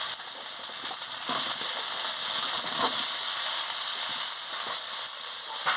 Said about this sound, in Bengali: দিয়ে ভালো করে মশলার সঙ্গে কষিয়ে নিচ্ছি